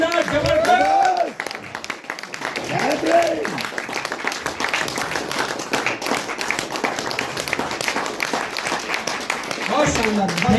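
Crowd clapping at a community celebration event in Shimla as a guest is called to the stage, steady applause running beneath an announcer's excited talk throughout.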